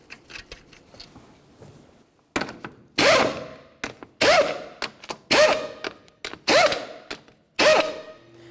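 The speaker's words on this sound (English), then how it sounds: "We're going to start on all 5 of our lug nuts, bottom them out" A hand ratchet spins lug nuts down on a Pontiac Vibe wheel in five loud clicking bursts, each a rapid run of metallic ratcheting, separated by short pauses and lighter clinks, close by.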